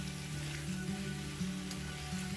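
Tomatoes and onion cooking in oil in a pan, a soft steady sizzle and bubbling fry that holds evenly without any talk over it.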